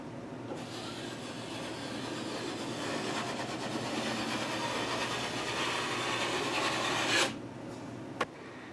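A drywall knife scrapes excess joint compound off a sheetrock seam in a steady, close rasping drag that lasts about seven seconds. It cuts off abruptly and is followed by one sharp tap, with no talking.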